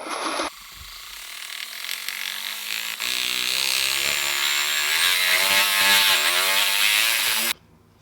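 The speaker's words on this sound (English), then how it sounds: "As I'm doing my plunge cut, I'm kind of pulling it towards myself a little bit" A reciprocating saw makes a plunge cut, starting after a brief pause and then running in a steady, loud, buzzing whine with a rhythmic reciprocating pulse for several seconds before stopping abruptly.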